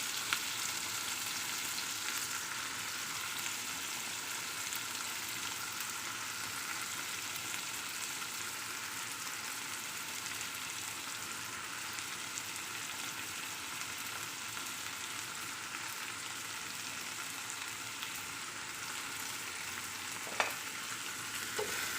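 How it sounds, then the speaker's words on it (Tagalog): Eggplant sautéing in a pan for a lentil and eggplant dish, a steady continuous sizzle and frying hiss throughout with a faint clink near the end, no talking. "So, gisa tayo ng talong."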